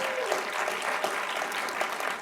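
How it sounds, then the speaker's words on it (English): Audience applause at a pitch event for a conservation start-up accelerator, a steady broadband patter of many hands clapping at moderate level for about two seconds, with no talk over it. "We'll give Alex a clap."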